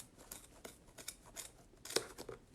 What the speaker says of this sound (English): just wind it up around a book and then cut it all off at once